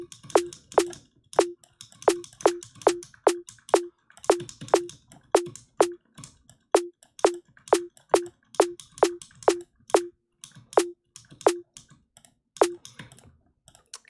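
A rapid series of sharp, punchy synthesized snare hits with filter movement in a steady, driving rhythm, each with a bright noisy crack and a short tonal body, no voices.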